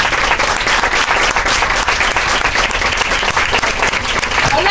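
Loud, dense audience applause filling a hall after a French conference talk on risk, sustained clapping from many hands with no voices above it.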